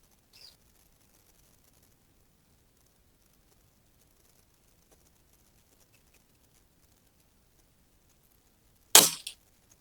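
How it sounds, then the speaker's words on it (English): A single sharp crack from a Precihole Sports PP100 Chimera Bx3 air rifle firing once, loud and abrupt near the end after a long quiet stretch, with a faint tick at the start. "I'm just gonna take one shot just to make sure like I might not have made a mistake."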